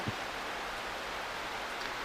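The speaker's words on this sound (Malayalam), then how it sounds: "ഇപ്പോൾ ഫുള്ള് മഴയാണ്" Heavy rain falling outdoors in the Wayanad forest, a steady, even wash of hiss with no breaks or distinct drops, fairly quiet throughout.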